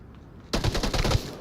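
Gunfire in the VR shooter Onward during a 5v5 competitive match, a quiet moment broken by a sudden rapid burst of several loud, close shots in quick succession.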